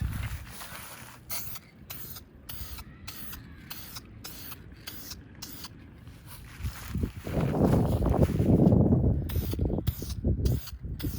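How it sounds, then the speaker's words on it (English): Rough, low buffeting wind noise rumbles against the microphone, growing louder and gustier toward the end. "you can see how windy it is right here"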